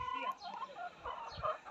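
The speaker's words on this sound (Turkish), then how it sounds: "Nazlı'nın burada tavuklarını bakın be" Chickens cluck repeatedly in a backyard coop, including a henna-colored hen, with soft overlapping calls at moderate distance over faint background noise and low chatter.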